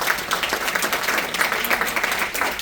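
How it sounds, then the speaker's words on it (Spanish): A congregation applauds loudly during a church sermon, many hands clapping in a busy, sustained burst that swells and dips slightly but never stops, with no speech over it. "Fuerte ese aplauso"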